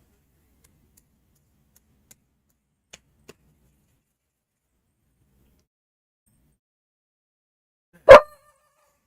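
A single sharp dog bark rings out after a long near-silence, preceded by a few faint clicks.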